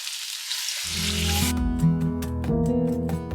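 Fat from katla fish frying with onions in a pan gives a close, bright sizzle that starts abruptly, then continues with rhythmic tonal scraping and stirring over it, no voices.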